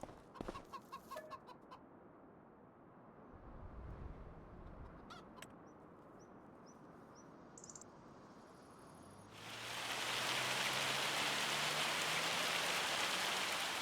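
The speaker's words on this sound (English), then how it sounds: "Sounds like rain." Rain in the Farming Simulator 25 video game starts up as a loud, steady, broadband hiss that fills the second half, after quieter ambience with a few clucks and chirps near the start.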